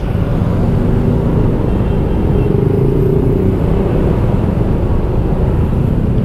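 Congested Jakarta traffic heard from a motorcycle: loud, continuous engine and road rumble with wind buffeting, a dense unbroken roar of surrounding vehicles that holds steady throughout.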